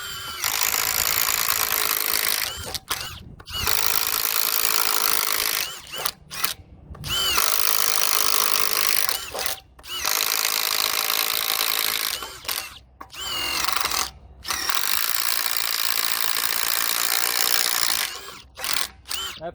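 Ridgid Octane impact driver driving screws into wood, loud repeated bursts of whirring and hammering impacts separated by short pauses between holes.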